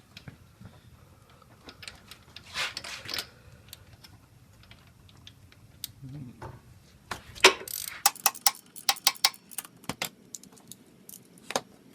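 A socket wrench ratchets out a scooter spark plug in a burst of fast, close clicking, with a few scattered ticks and clunks from the tool and engine parts in a quiet room.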